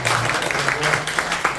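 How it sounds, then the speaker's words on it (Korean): A church congregation claps together in a short burst of applause to give glory, steady and full, with a low sustained tone underneath. "우리 박수로 한번 영광 돌리겠습니다"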